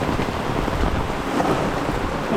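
Heavy rain pours down during a storm in Korea, a loud, steady rush of water and wind noise filling the scene without a break and with no voices.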